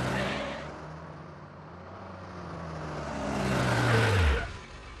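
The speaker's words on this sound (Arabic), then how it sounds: "الحمد لله لقد دار المحرك." A cartoon car engine starts up and runs, then revs hard and accelerates, rising to a loud peak before dropping off abruptly.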